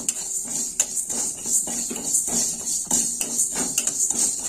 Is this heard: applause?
no